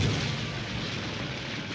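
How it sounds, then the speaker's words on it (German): Deep, continuous explosive rumbling with booming bursts as cars, buses and trucks explode, a loud roaring blast that fills the whole moment without any voices. "Über 1 Milliarde Autos, Busse und Laster explodieren rund um den Erdball."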